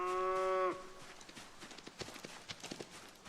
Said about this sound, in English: cows are still here